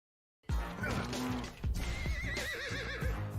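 A horse from the video game Grand Theft Horse neighs loudly with a wavering whinny, alongside hoof clip-clops and game music, close and prominent.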